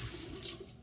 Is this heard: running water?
yes